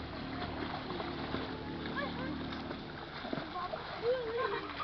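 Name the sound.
child splashing while swimming in a resort pool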